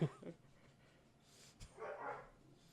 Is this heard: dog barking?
yes